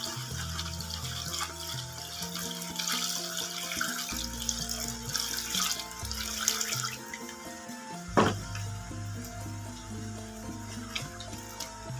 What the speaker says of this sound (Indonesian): Kita sambil mencuci telonya.